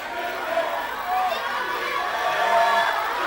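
A school audience at an awards ceremony cheers and shouts in a steady crowd roar, children's voices and talk mixed in, swelling slightly toward the end.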